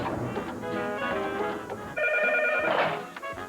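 A telephone rings on the line to a club president before the call is answered. The ring is a short burst of bright, repeating tones, moderately loud, and no one speaks over it.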